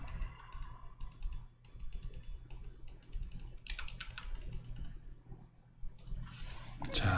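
Rapid clicks from a computer mouse during photo editing, light and close, arriving in quick clustered bursts over a low steady room hum, with no talking.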